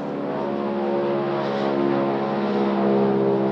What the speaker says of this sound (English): You can hear the airplane going over.